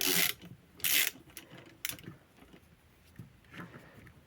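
Quiet metallic ratcheting and creaking as a puller is tightened bit by bit to pull a bushing from a Volkswagen Touran front control arm, with a few sharper clicks and scrapes.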